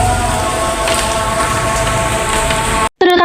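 Steady rain falling beside Situ Gede lake, a dense close hiss of drops on surfaces that runs unbroken before cutting off abruptly near the end.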